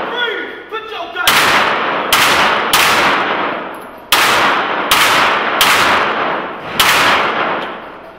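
Loud gunshots at an indoor gun range, a rapid series of about seven sharp blasts with ringing tails, some close together and some spaced apart, after a brief stretch of quiet speech at the start.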